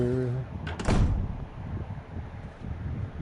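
A door opens in the game Resident Evil HD Remaster with a short creak and a muffled thud, followed by low ambient rumble while a person talks.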